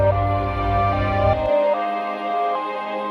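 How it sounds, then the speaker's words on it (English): A melodic sample chop played on an MPC Live 2, sustained tonal notes shifting pitch; partway through, a kill EQ preset strips out the low end and bass, leaving a thinner, brighter loop with no kick drum. "And I like to use a preset no kick drum"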